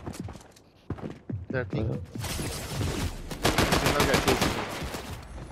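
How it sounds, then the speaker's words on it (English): Rapid gunfire from the shooter game Fortnite comes in dense close bursts that run through most of the clip, with voices speaking briefly at the start. "I shot him three times"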